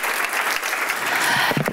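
Short burst of conference audience applause at a smart cities event, a close, dense patter of many hands that holds steady to the end.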